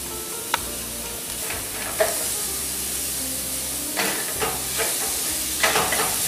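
Crushed green peppercorns sizzle in a hot pan for green pepper chicken, a steady frying hiss broken by a few scraping stirs, close and alone.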